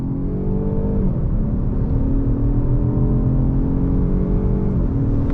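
2021 Jaguar XF sedan accelerating under throttle with paddle-shifted gear changes, a loud engine drone climbing in pitch, dipping at each shift around the first and fifth seconds, heard from inside the car.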